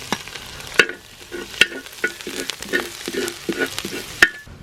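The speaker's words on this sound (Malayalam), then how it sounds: "ഇഞ്ചി വെളുത്തുള്ളി ഇഞ്ചി വെളുത്തുള്ളി നല്ലോണം അങ്ങോട്ട് ഒന്ന് മൂപ്പിച്ചെടുക്കണം." Ginger and garlic fry in hot oil in a pan for a red snapper dish, a soft sizzle punctuated by repeated sharp spatula scrapes and taps at a steady stirring rhythm, close up.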